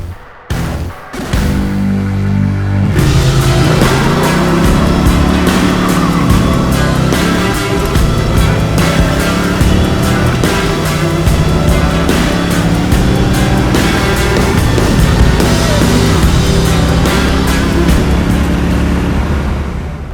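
A 1971 Dodge Dart with a new 360 Magnum V8, Edelbrock aluminum heads and a four-speed conversion runs on a chassis dyno, its engine roaring loud and sustained after a brief start, with rapid firing pulses throughout.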